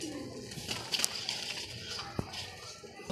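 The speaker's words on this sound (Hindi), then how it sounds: "उड़े उड़ाए कबूतर, पीले रंग के कबूतर है" Yellow flying pigeons coo softly amid a busy outdoor background, with a couple of sharp transient knocks and faint chatter.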